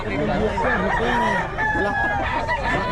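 A rooster crows repeatedly and loudly nearby at a gamefowl sale in Bocaue, its drawn-out calls layered with other birds clucking and a faint murmur of people.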